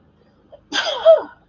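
A single short, sharp sneeze bursts out after a faint intake of breath, fairly close and alone.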